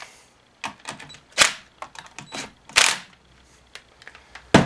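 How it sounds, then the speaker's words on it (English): A quarter-inch drive ratchet snugs the bar nuts on an Echo CS-330T chainsaw, giving close, sharp bursts of clicking in irregular short runs with quiet gaps between. "I'm only using a quarter drive ratchet on it."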